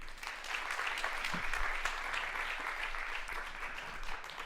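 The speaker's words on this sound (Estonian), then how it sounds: "Teeme Maarjale ühe suure aplausi." An audience at an environmental education conference applauds a young nature conservation badge recipient, with sustained, fairly distant clapping from many hands that runs steadily throughout.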